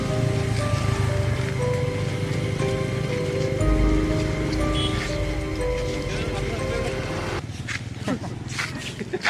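Heavy rain pours steadily during a 2021 flood in Adoor, a dense, loud wash that continues throughout, with people talking over it.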